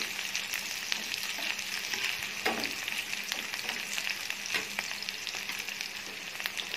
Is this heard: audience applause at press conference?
no